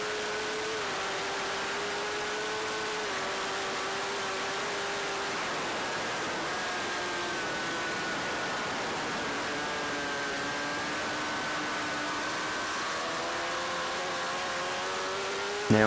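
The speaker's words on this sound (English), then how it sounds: "Nice just to listen to the engine and the bike through there." A superbike in top gear crosses the mountain section of the Isle of Man TT course, recorded onboard. A sustained high-revving engine drone rides over constant wind rush, with slight pitch shifts and no talk.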